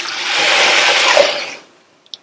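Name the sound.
water being poured into a soup pot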